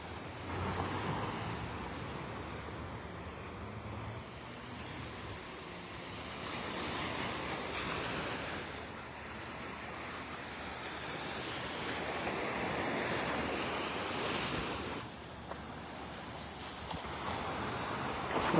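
Surf rolling onto Vanderbilt Beach on an early Saturday morning, a steady, moderately faint wash of waves with gentle swells and no voices.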